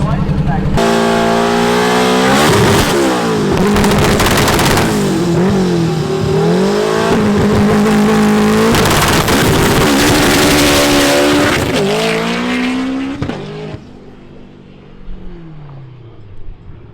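Turbocharged K24-powered all-wheel-drive Honda Civic drag car launches hard on a cold, unprepped track, engine roaring loud and close with tires spinning and squealing, then fading away near the end while people talk throughout.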